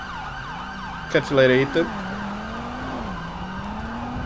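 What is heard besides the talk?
ambulance siren in GTA 5 video game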